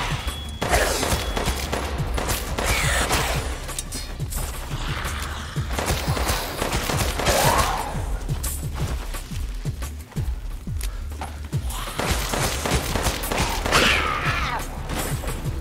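Heavy gunfire from a magnum revolver in Resident Evil Village's Mercenaries mode at the castle, with repeated loud shots, mechanical clanks and creaks, and dense game action running throughout.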